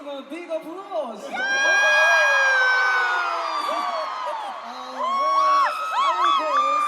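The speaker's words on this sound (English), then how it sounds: "Please give him a big applause." A concert crowd of fans in Paris erupts in loud, sustained high-pitched screaming and cheering, swelling then dipping and rising again in a shrill wave of voices.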